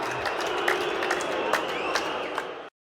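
A football crowd at a Millwall versus Hull City match applauds a player warming up, a steady wash of clapping from the stands, with faint voices mixed in.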